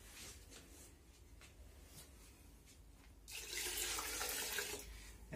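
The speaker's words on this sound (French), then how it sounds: "on va la diluer encore avec de l'eau chaude" Hot water pours and splashes into paint being thinned for a Wagner spray gun, a steady hiss that swells louder in the second half, with faint taps and knocks beforehand.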